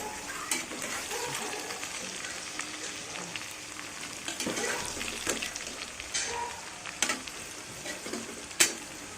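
Tomatoes frying in a pan for a dried fish curry, a soft continuous sizzle with occasional stirring and faint utensil clinks, quiet and close.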